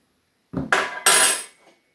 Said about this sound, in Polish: Jak chcecie mieć świecące sztućcy